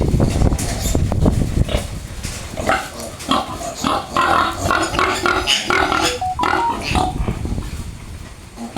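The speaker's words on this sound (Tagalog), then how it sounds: "Ito yung ating mga baboy." Pigs, including a sow with young, grunt and oink in a pen with a storm-damaged roof. The snorts are close and overlapping over a continuous rough background.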